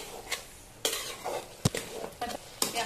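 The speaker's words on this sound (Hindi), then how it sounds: "तो इसे हम डाल के अच्छे से भूनेंगे।" Chicken pieces, mostly leg, fried with onion masala in a pan, stirred in repeated short scraping strokes over a low sizzle, close and fairly loud, with no talk.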